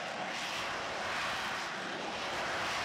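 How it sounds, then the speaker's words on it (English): A Harrier jump jet roars steadily nearby, a broad, continuous engine rush with no voices. "Some jets, like this Harrier jump jet, can take off and land vertically,"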